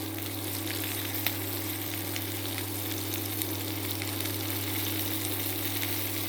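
Ivy gourd (kundru) frying with turmeric in a pan, giving a steady, close sizzle with crackling spits throughout and no voices.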